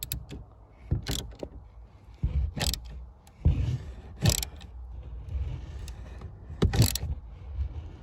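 A captive nut on a Mercedes auxiliary battery is tightened by hand, giving a series of sharp, close ratcheting clicks and metallic taps at irregular intervals over a quiet background.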